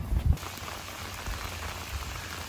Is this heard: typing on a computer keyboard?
no